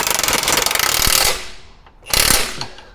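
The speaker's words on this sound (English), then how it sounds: "now we can do up those bottom bolts, which again, you just got 18mm spanner and an impact gun socket" An impact gun with an 18mm socket drives the bottom bolts of rear springs on a VE, VF or WN car in two loud, rattling, hammering bursts, the first longer, separated by a brief pause.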